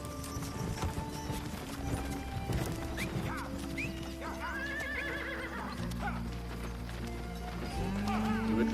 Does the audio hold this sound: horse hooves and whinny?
yes